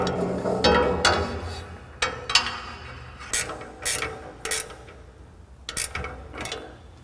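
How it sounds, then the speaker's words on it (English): A wrench tightens nuts on the foot pedal bar of a 2022 C|Flux dust collector, giving bursts of metallic ratcheting clicks separated by short pauses. "install the nuts, and secure. Finally, secure with a wrench"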